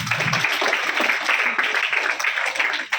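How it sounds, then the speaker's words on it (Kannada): A crowd claps for a schoolgirl student on stage at a school function, a dense steady patter of many hands lasting a few seconds with no voice over it. "ಆಕೆಗೆ ನಾನು ಈ ವೇದಿಕೆ ಮೂಲಕ ಒಂದು ಚಪ್ಪಾಳೆಯನ್ನು ಕೊಡ್ಲಿಕ್ಕೆ ಇಷ್ಟಪಡ್ತೀನಿ"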